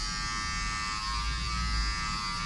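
An electric hair clipper runs continuously while cutting hair in a barbershop, a loud close steady buzz with a constant whine and no pauses, no voices.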